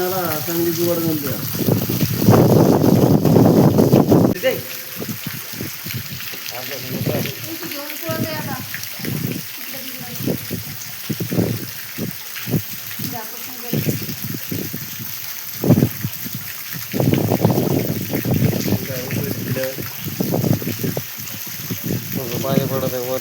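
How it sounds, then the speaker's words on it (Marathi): Rainwater drips and trickles under a riverside shelter during a downpour, a steady wet patter under frequent talking voices, with a louder surge of water now and then. "पाणी पडत आहे वर थोडं खाली बसलं."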